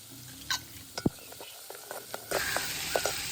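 Beans, carrots and capsicum are stirred in a pan, a few scraping knocks and taps of a spatula, then a louder sizzle that bursts up and keeps hissing under further stirring.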